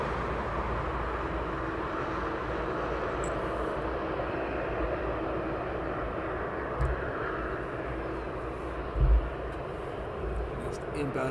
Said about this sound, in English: Next inbound aircraft.